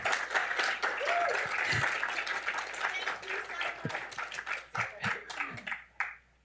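An audience at a policy forum applauds and cheers to welcome a U.S. senator. The clapping is dense and sustained, with voices mixed in, and it fades toward the end.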